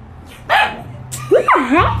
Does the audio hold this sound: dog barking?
yes